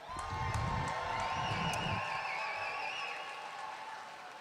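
A crowd at a disability services rally at a state capitol cheers and whoops, loud at first with claps and shouts, then easing into lingering cheers and a few high calls as the noise tapers off.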